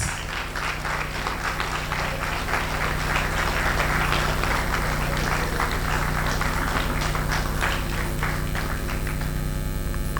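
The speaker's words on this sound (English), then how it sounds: "The applause, the applause" An audience in Ghana keeps applauding after a speech on disability, a sustained, even spatter of many hands over a low electrical hum that thins out toward the end.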